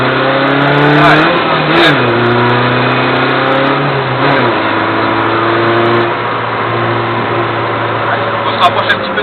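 A car engine accelerates hard on a race track, loud and close, revving up through the gears with clear shift dips, then holding at a sustained high drone.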